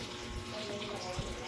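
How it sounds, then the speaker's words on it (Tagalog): Water running from a kitchen faucet, a soft continuous rushing stream, fairly faint, with a low voice murmuring underneath. "Sarado mo na yung gripo."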